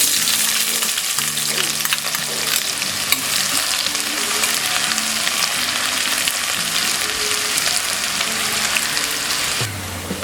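Onions frying in oil with whole spices (cloves, cinnamon, cardamom, black pepper, bay leaf) for masala rice, a steady, close sizzle with stirring scrapes throughout, no voices.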